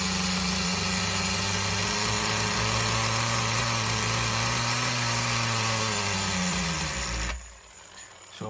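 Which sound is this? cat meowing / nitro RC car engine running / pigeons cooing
nitro RC car engine running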